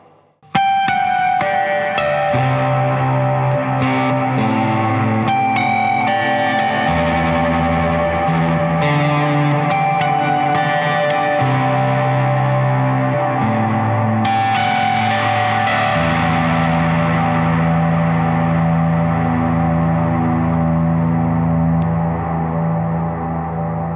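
An electric guitar plays through a Walrus Audio Melee overdrive and reverb pedal, sustained distorted chords ringing with lush reverb tails, loud and continuous with no talking.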